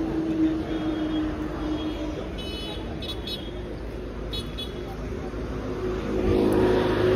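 An auto rickshaw engine running steadily close by, a continuous drone that swells near the end, with street noise around and voices talking over it.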